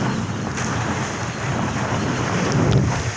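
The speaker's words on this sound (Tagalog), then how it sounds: "malakas talaga ang hangin. At yung alon kapatid, lumalaki din." Strong typhoon wind roars across the microphone while big waves slosh and churn close by, a constant loud rush with no pauses.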